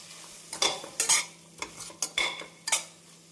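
A spoon scrapes and stirs through onions, tomatoes and chicken sizzling in a pan for chicken curry, several quick irregular strokes over a soft frying hiss, close and without speech.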